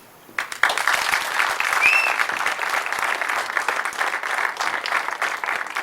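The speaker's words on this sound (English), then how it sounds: "One more round of applause for Steve McShane." An audience applauds at a Salinas City Council candidacy announcement, a dense, sustained wash of many hands clapping that starts abruptly and holds steady and fairly loud throughout.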